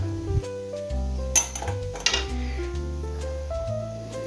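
A spatula stirs fried rice with tuna and scrambled egg in a pan, making quick clinks and scrapes against the metal at an irregular rhythm, close and fairly loud.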